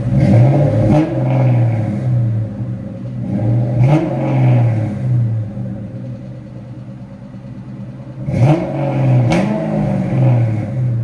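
A 1996 Ford Mustang Cobra 4.6L V8 with no catalytic converters and a Flowmaster 40 Series exhaust revs up sharply three times from a deep, loping idle. Each loud blip falls back to the rumble, heard up close with no talking.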